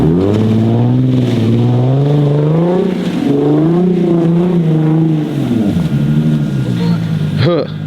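An AWD Infiniti Q50 in first gear on snow, its engine droning loud and close with rising and falling revs as it accelerates, then a sharp squeal near the end.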